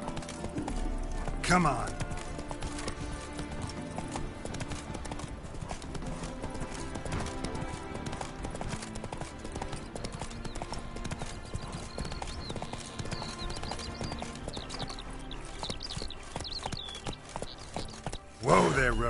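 Roach the horse from The Witcher III, hooves clip-clopping in a steady walking rhythm throughout, with an occasional snort or whinny, game music and a short spoken line over it.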